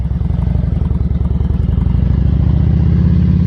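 A new motorcycle's engine idles steadily up close, a deep, continuous rumble with a fast, even pulse throughout.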